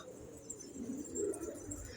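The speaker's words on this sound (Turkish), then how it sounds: "Bak kırmızı keşfir ötüyor." Soft, low cooing of a red pigeon, a short rolling call heard faintly against quiet outdoor background noise.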